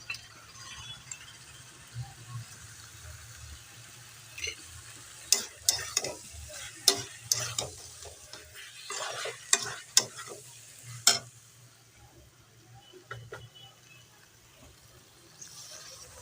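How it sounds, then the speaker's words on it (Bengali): Fried vegetables of flat beans, radish, eggplant, potato and lentil dumplings stirred and pressed into spice paste in a pan, giving a soft sizzle with bursts of scraping, clattering stirs in the middle, quieter toward the end. "মা ভেজে রাখা সবজিগুলো দিয়ে দিলাম এটাও কিন্তু ভালো করে আবারও চাপা দিয়ে দিয়ে চাপা দিয়ে দিয়ে কষাবো"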